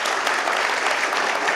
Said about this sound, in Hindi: मैं चाहूंगा तालियां तो आए पहले यहां पर।